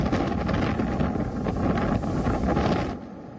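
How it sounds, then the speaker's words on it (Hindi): Strong storm winds roar and buffet the microphone along the coast at Digha during a cyclone with high sea waves, a steady loud rushing that eases at the very end, no voices. "ऊंची लहरें हैं, तेज हवाओं का शोर है"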